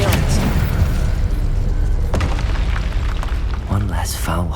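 A Confringo blasting spell exploding in the video game Hogwarts Legacy: a loud, close boom with a rumbling tail, followed by sharp magical bursts and crackles, with voices mixed into the busy game audio.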